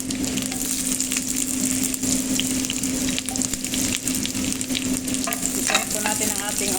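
Onion frying in a butter sauce for spicy beef with orange juice, a steady close sizzle with repeated stirring scrapes in the pan.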